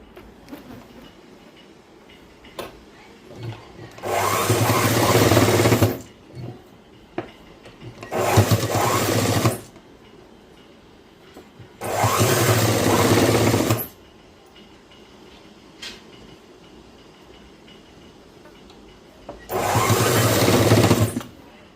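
Sewing machine stitching a boys' school uniform shirt, running in four separate loud bursts of a few seconds each with quiet pauses between them.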